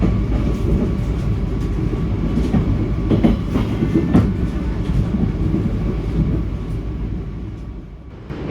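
Gaya Baru Malam Selatan economy train pulling away from Wonokromo station, heard from inside: a steady low rumble with rhythmic wheel clatter over rail joints, continuous and fairly loud.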